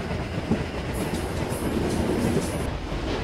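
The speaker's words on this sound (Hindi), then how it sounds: "एल्को का साथ संगीत साउंड आ रही है इस बार" An ALCO diesel locomotive hauls a high-capacity parcel train in Kerala with a steady rolling rumble and clattering wheels on the rail. The sound stays fairly close, with a faint whine above it and no talking.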